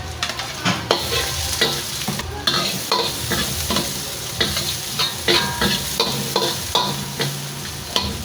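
Garlic, onion and ginger sautéing in a pan, a steady close sizzle broken by rhythmic scraping and clattering strokes of a utensil stirring, with no voices.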